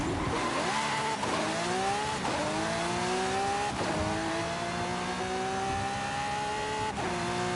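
Drag race cars accelerating in Forza Horizon 5, facing a Ferrari F40 and a Ford GT: a loud engine rising in pitch through repeated gear changes, each shift marked by a sharp drop and a fresh climb, with no talk.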